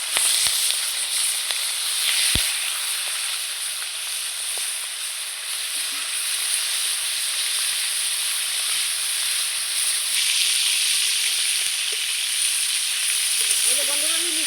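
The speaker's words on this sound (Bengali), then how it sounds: "এইবার আমি এই মাছের মাথাগুলো ইলিশ মাছে ভেজে নেব" Hilsa fish heads frying in hot oil in a wok, a steady loud sizzling hiss that fills the whole stretch with little change, broken by a few faint clicks and clatters.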